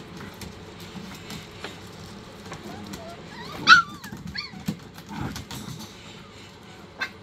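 Puppies yip and whimper in short, scattered bursts, with some soft scuffling and a quiet voice in the background.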